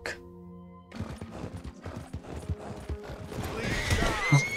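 A video-game horse whinnies loudly, then its hooves clip-clop in a quick rhythm as it gallops and jumps off a cliff, with faint game sounds behind.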